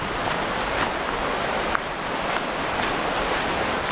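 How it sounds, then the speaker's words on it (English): Creek water flowing beside an old railroad line hiking trail, a steady broadband rush with a slight wind-like hiss, continuous and fairly close, with no talking. "It is so nice walking next to the creek."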